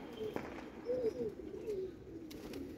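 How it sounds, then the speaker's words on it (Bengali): Silver-necked breeder pigeons in a loft coo softly in a few short, low phrases over a steady background hum, moderately close but faint. "সিলভার গলা কবুতর"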